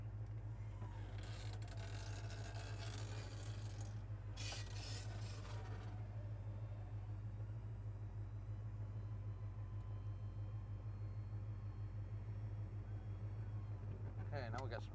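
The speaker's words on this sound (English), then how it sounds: "so first thing, let's drop the top." The power convertible top on a 1968 Oldsmobile 442 lowers in two mechanical whirring, scraping bursts over the steady low rumble of the idling engine, then the engine idles on alone.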